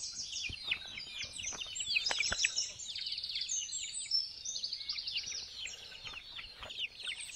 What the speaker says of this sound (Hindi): मुर्गी लोग